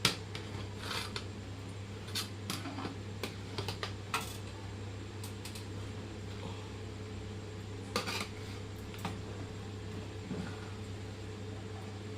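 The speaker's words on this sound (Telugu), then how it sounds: "కొంచెం రైస్ కలుపుతున్నారు చూడండి అడుగు నుండి" Mutton biryani rice is turned over from the bottom of a pot for a Ramadan festival meal. Soft, irregular scraping and light clinks of utensil against pot sound faintly over a constant low background hum.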